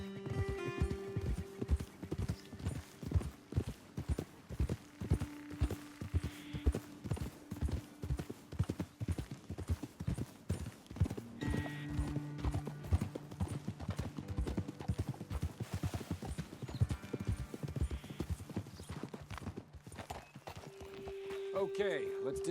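Horses in the video game Red Dead Redemption 2 walk with rhythmic hoof clip-clops on a dirt trail under steady male conversation, and a brief neigh comes near the end.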